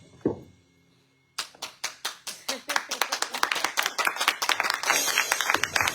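A church congregation claps hands loudly in unison to acclaim Jesus, Gabonese style, first as spaced single claps that quicken into a dense, rhythmic burst of clapping, with a brief voice at the start.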